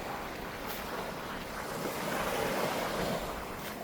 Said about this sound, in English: Oh, gorgeous beach out here.